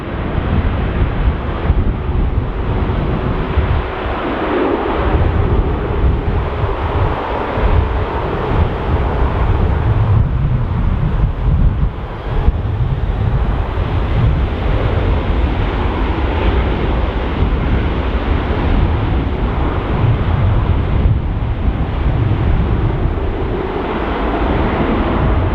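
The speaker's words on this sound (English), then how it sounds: "surface wind is 200 degrees, 20 knots, gusting 30 knots" Strong gusting wind at Dublin Airport roars continuously across the microphone, a loud, buffeting rumble that swells and dips throughout with no voices.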